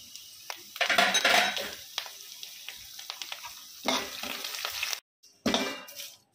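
Curry leaves frying with coriander and cumin seeds and urad dal for podi karam, loud crackling bursts as they hit the hot oil, then a quieter sizzle, a brief pause and another sharp spurt of crackle, close by.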